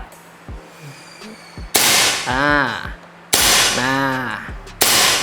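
An airsoft gun fires semi-automatic shots, three sharp loud cracks spaced over a few seconds, with a voice talking between and over the shots.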